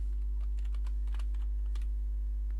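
Rapid keystrokes on a computer keyboard in irregular bursts, close and fairly crisp over a steady low electrical hum, no voices.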